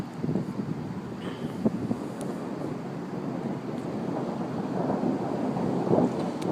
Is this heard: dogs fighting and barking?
no